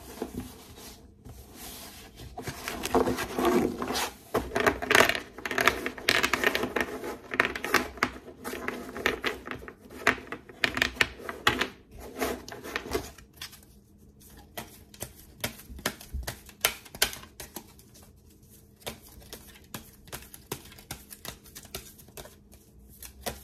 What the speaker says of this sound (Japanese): 今シャッフルをしています。